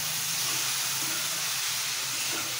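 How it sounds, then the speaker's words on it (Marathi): Fenugreek leaves and toor dal stir-frying in a pan, a steady, even sizzling hiss that runs unbroken and close throughout. "परतून घ्यायची, चांगली हलवून घ्यायची आणि मग झाकण ठेवायचं आपल्याला त्याच्यावर"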